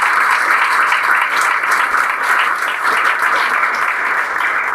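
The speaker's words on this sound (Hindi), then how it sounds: "भाई खड़ा होकर ताली बजा दीजिए लोग" Sustained audience applause filling the whole stretch, loud and steady clapping from a crowd in a celebration for a village radio and television repairman's son who got into IIT.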